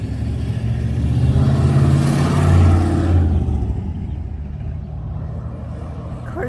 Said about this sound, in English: Some cars are loud when they go past.